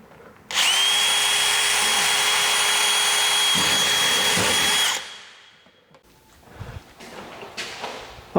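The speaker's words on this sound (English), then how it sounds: "Now I mark these holes and drill them." A power drill runs loud and steady for about four seconds, then winds down, followed by some quieter clattering handling sounds.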